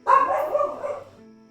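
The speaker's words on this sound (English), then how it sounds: "Crazy dog just wanted some attention." A single short dog bark rings out loud and close, a sudden yelp that trails off over about a second, with no talk around it.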